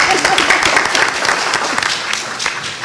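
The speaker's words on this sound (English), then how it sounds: "let's applaud David." Strong audience applause at a public meeting on education, a thick burst of many clapping hands that stays loud throughout and eases off a little near the end.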